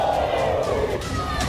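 Sold-out crowd roaring at a Philippine pro wrestling event at the Brawl Pit Bulusan, a loud, steady wash of cheering and shouting that fills the whole moment without a break.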